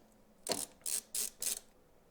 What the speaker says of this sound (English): we're going to go ahead and put our bottom screws in first